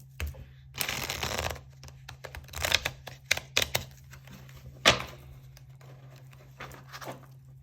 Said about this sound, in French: Je vais prendre 3 cartes de tarot pour avoir des compléments par rapport à ça.